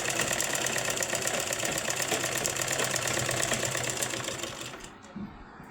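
Sewing machine stitching a second seam line along the top side strip of a size 36 blouse, a steady close mechanical whir running continuously before tapering off near the end.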